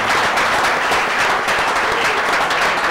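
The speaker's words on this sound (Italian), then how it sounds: "Gli facciamo un applauso a questo." Audience applause filling a room at a live event, dense steady clapping from many hands close by, continuous and loud throughout with no pauses.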